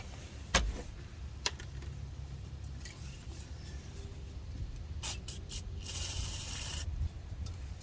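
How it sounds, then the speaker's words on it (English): Short hissing bursts from an aerosol can of PB penetrating oil, a few quick sprays followed by a longer steady spray, close by over a low engine hum. "Spray a little PB in there"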